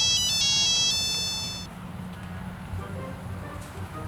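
A mobile phone ringtone plays a bright repeating electronic melody for about a second and a half, then cuts off, leaving a low engine-like hum beneath.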